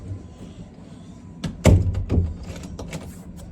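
Damaged door with a destroyed jamb in a hollow-core house being swung and shut, giving a couple of close wooden thunks and a knock over a quiet room.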